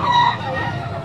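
A bulik gamefowl rooster crows in a short, loud burst at the start and fades into general crowd and yard noise at a poultry sale.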